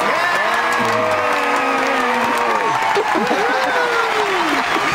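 Studio audience applause and cheering for cast arrivals on a daytime soap set, a steady dense wash of clapping with whoops, while people talk loudly over it throughout.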